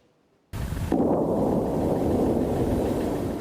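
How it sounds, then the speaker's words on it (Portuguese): Explosions on the Syrian side of the border sound as a sudden loud, rumbling roar that sets in abruptly and keeps booming steadily, heavy and broadband with wind-like noise, and no talk. "As explosões não param no lado sírio da fronteira."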